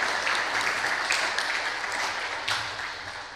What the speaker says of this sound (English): I think they deserve applause, right?